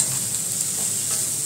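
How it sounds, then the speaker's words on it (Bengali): Food frying in ghee over a slow flame while being stirred, giving a steady close sizzle with a faint scraping of the spoon, alone for a short stretch. "স্লো ফ্লেম করে এগুলো একটু নেড়ে নিন"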